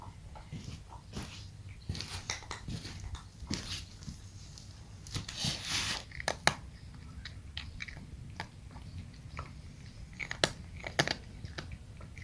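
A cat chews and crunches a dragonfly indoors, with close, irregular wet bites and crisp crunches that come in quick bursts, alongside soft breathing.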